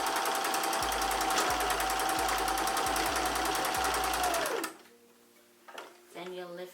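A sewing machine stitches hair wefts for a wig, a loud, steady mechanical whir with regular needle thumps running for several seconds, then stopping abruptly into near quiet with faint handling sounds.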